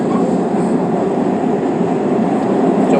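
A moving train rumbles steadily at close range, a loud, dense, continuous roar inside the carriage with a constant rattle and no distinct talk above it.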